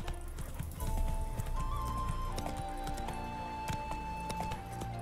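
In The Witcher 3 video game, rhythmic hoofbeats clop steadily while a horse whinnies over them, with a faint tonal hum in the background.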